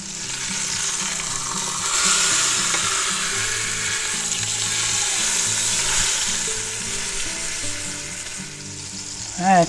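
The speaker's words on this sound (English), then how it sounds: "we're going to take our meat and lay it right in there and saute both sides for a couple minutes" Pot roast meat sauteing in a hot pan, a steady loud sizzle and fry running throughout, with game music or background tones layered underneath and a brief clatter at the end.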